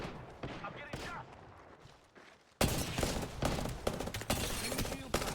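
Gunfire in the Apex Legends battle royale game comes as rapid bursts of shots and impacts, growing suddenly louder and denser halfway through, with game voice lines mixed in.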